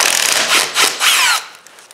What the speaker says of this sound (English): we're just going to take a 1/2 inch and take this nut off